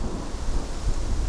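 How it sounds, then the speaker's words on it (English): Heavy rain falls hard outdoors among trees along a mountain bike route, a dense, steady roar of noise close by with no other sounds. "it's raining."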